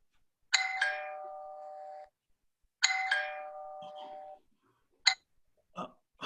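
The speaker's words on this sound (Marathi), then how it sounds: "वाचता वाचता आत जाणार एवढ्यात बेल वाजते." A doorbell in a Marathi radio play rings twice in clear electronic chimes, each tone sustained and fading, followed by a few short knocks or thuds, close and alone in a quiet room.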